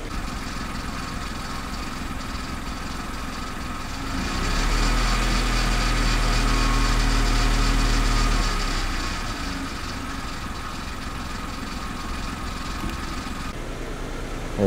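A repaired Kia Picanto engine idles steadily and fairly quietly, a low, even hum with a smooth rumble that swells slightly for a few seconds mid-way before settling back, with no voices.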